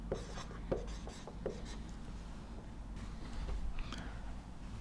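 Chalk or marker writes an equation on a board in a lecture, a series of light scratchy strokes and taps, close and fairly quiet, with no talking.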